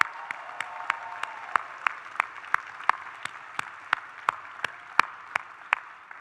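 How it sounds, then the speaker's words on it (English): Audience applause at a university school of public health spring commencement, a steady run of rhythmic claps with sharp individual hits repeating for several seconds at a moderate distance. "Let's give them another round of applause."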